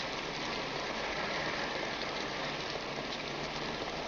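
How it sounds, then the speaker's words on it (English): Heavy rain pours down in a steady, dense hiss without pause, loud and uniform throughout, with no talking. "It's raining pretty hard."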